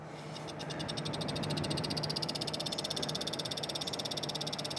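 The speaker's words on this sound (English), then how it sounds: "That is the rear fan ticking." Rapid, steady ticking from the rear fan of an Antec CX200M RGB Elite PC case, a fast rattling clicking repeating evenly over a soft whirring hum, close and fairly quiet, with no talk.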